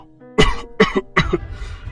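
Three harsh, heavy coughs in quick succession, close and loud, the last trailing into a rough breathy exhale.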